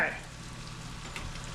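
Firecracker shrimp and broccoli sauce bubbles and sizzles steadily in a pan, a close, even crackle that runs the whole short moment with no talk.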